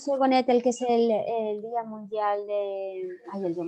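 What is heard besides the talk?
No everyday noises stand out.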